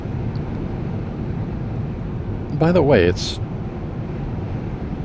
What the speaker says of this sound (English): So yeah, we get some aggressive winds out there.